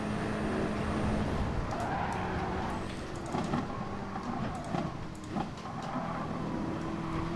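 Race cars in GT Sport lap the Nordschleife, a BMW among them, with a constant engine drone and bursts of tyre squeal and skidding at moderate volume.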